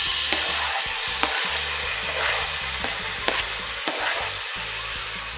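Food sautéing in cold-pressed organic coconut oil in a pan: a loud, close, crackling sizzle broken by regular scraping and tapping strokes of a stirring utensil.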